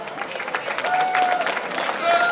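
An audience claps in welcome for a guest at a formal gathering, a brief burst of scattered applause with a voice speaking over it.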